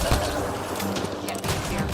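Rapid gunfire from the video game Mass Effect: Andromeda, a dense, steady burst of shots filling the moment with a few short spikes over constant background sound.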